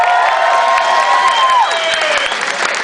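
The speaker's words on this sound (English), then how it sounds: "Give them a round of applause." An audience before an Anti-Flag show at the Gramercy in New York City breaks into loud, dense applause with cheering and whistles, a full crowd roar lasting the whole moment.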